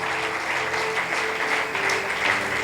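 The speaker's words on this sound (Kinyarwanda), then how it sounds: "dukomere Imana amashyi menshi" A church congregation claps together in steady, dense applause that fills the room for a few seconds.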